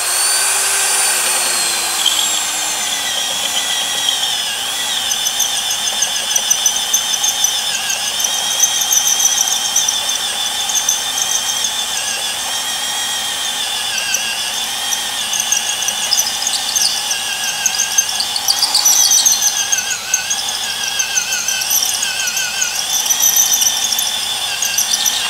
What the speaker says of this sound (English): I gotta do it with a burr bit on the die grinder.